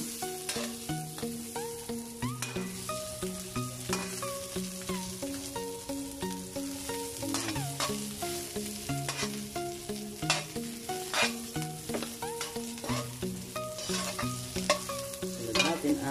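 Onions sautéing in a pan for a sautéed mussel and moringa dish, giving a continuous sizzle with stirring scrapes, partly masked by melodic background music.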